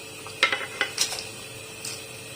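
Boiled colourful vermicelli being stirred in a metal pot for a custard dessert, with light scraping and clinks of a spoon against the pot over a couple of seconds.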